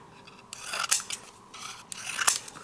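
Scissors trimming paper for a card-making kit, a few close crisp snips and slicing swishes in separate bursts with quiet gaps between them, no talking.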